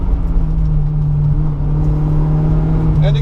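An autocross car accelerating in third gear through a slalom, a loud steady engine drone from inside the cabin that holds a constant pitch, with a brief shift-like change near the end.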